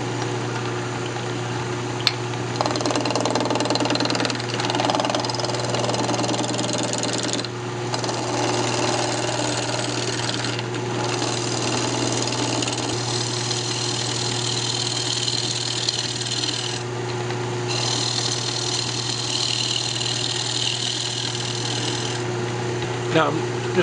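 Wood lathe spinning a piece of maple glued to a waste block for a Christmas ornament, a steady motor hum and whir with a tool scraping the wood in stretches, close and continuous.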